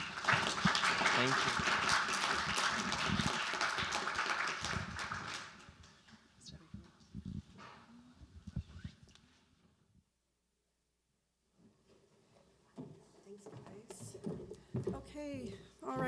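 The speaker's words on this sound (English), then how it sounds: "Let's have a round of applause" Conference attendees at a leaders' closing plenary give a loud burst of dense applause lasting about five seconds, then it dies away into scattered claps and near silence before a person speaks briefly.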